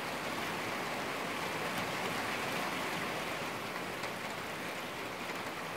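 Heavy morning rain falls steadily in a dense, unbroken hiss of drops on surfaces, with no voices over it.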